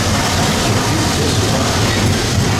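A Disney World railroad train rumbles along at a steady pace, its heavy low clatter and wheel noise loud and continuous throughout, with no voices.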